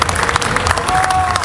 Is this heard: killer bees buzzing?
no